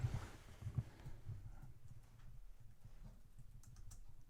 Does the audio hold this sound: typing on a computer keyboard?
yes